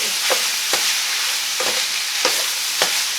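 Andouille sausage browning in a hot pan, a steady loud sizzle broken by several sharp clinks and scrapes of a utensil stirring.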